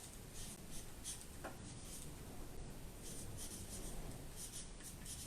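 A pen or marker scratches a word onto craft paper in a series of quiet, close strokes with short lifts between them, and nobody speaks.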